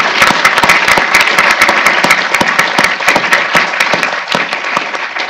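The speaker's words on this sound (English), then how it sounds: "So please join me in a welcoming applause." Loud, dense applause from a symposium audience welcoming speakers, a continuous wash of many hands with sharp individual claps standing out, holding steady and easing slightly toward the end.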